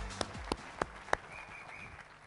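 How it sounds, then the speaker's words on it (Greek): Audience applause at a recognition event: four sharp, evenly spaced claps stand out over a faint, low background, heard close but fairly quiet. "Ένα χειροκρότημα στον κύριο Κώστα Καστανά"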